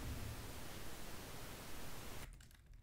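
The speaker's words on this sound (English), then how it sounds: "I've started with pink noise that we just heard," Plain pink noise: a steady, fairly quiet broadband hiss that runs evenly, then thins out abruptly near the end, with no voices.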